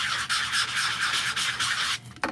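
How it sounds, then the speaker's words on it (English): Two-tone cardstock has its outside edges sanded in a swirling motion, a close, loud, continuous gritty rasp that pulses in repeated strokes before stopping near the end. "But I like to swirl when I sand."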